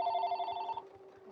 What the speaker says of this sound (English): that's the phone that's not supposed to ring.